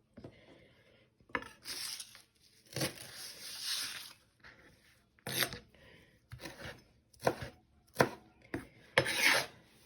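A knife chops mango salsa ingredients on a cutting board in a series of quick, close, crisp strokes grouped in short bursts with brief pauses between them, and nothing else heard.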